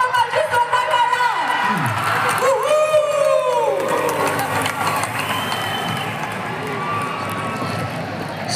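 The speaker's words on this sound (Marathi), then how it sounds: "आपण 25 जोरदार टाळ्या." A large crowd at a school group's annual gathering in Mahagaon roars with cheering, whoops and whistles over continuous clapping, loud and close throughout, the excited shouts rising early and settling into sustained applause.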